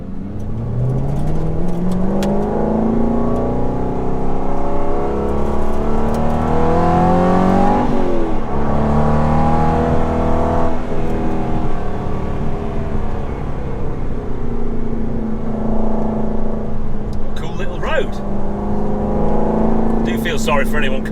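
Aston Martin GT8 supercars driving in convoy on a road, steady close engine drone with rising and falling revs throughout, under continuous talk.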